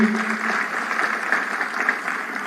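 Crowd applause at a national stadium celebration in Nairobi, a steady broad wash of clapping from a large audience, sustained and fairly loud with no voice over it.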